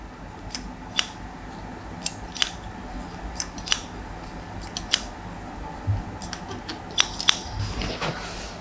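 A barber's scissors snip through hair during a classic cut, taking length off the top. Crisp, close, irregular clicks come singly and in quick pairs over a quiet room, with no talking.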